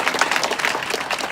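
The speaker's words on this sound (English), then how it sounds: "Round of applause, please." An audience at a community immigration forum in Hartford County, Connecticut applauds in a brief burst of dense, steady clapping, slightly distant.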